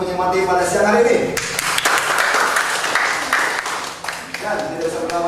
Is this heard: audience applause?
yes